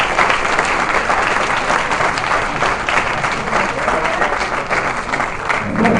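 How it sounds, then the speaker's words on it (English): Sustained audience applause fills a convention panel room at an anime expo, a dense steady wash of many hands clapping at fairly loud, even level throughout with no clear speech over it. "give him a round of applause."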